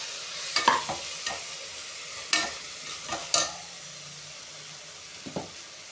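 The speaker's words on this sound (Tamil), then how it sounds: "மொத்தமாக நல்லா கிண்டி விட்டுக்கோங்க." A vegetable biryani mixture stirred in a pan, with irregular spoon scrapes and clatters over a faint sizzle, close and moderately quiet.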